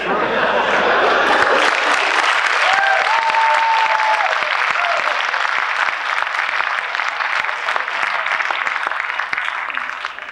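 Sustained audience applause fills a symposium hall after an answer, dense steady clapping from a sizable crowd that fades slightly toward the end.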